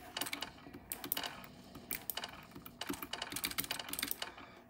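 Someone types on a computer keyboard and mouse setup while gaming, producing rapid, close, irregular bursts of key clicks with short pauses between flurries.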